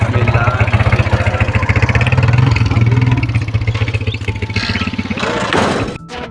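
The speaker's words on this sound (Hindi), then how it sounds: "मोटरसाइकिल लेते हैं स्टार्ट" A motorcycle engine starts and runs with a steady, close, thumping idle pulse, then revs and fades near the end.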